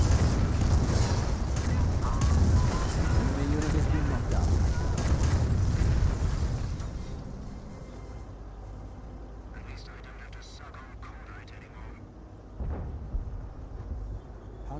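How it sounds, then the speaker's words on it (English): A Sherman Calliope rocket artillery barrage in Company of Heroes makes a dense, rumbling roar of rockets and explosions that fills the first several seconds, then fades to distant booms, under a voice commentating throughout. "Here comes the Sherman Calliope."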